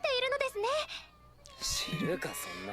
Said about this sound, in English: He's literally just a cat,